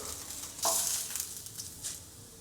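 Food fries in oil in a pan for palak paneer with a bright, crackling sizzle that flares loudly early on, then settles into an uneven, softer hiss with a few quick bursts.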